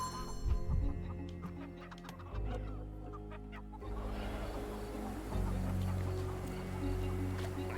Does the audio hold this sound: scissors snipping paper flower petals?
no